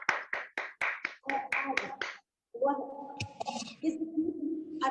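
Applause honouring Pankaj's family during a Bhaktamar lamp-offering ceremony at Gyantirth, heard as a few seconds of scattered, moderate hand claps that stop briefly, followed by a voice or tonal sound over a sustained background.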